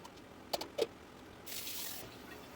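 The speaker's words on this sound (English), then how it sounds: "And a little hot water to rinse out the rest of the juice and fat that was in the container." Hot water runs briefly from a tap into a container to rinse out leftover barbecue juice and fat, a quiet steady flow lasting about half a second after a couple of soft knocks.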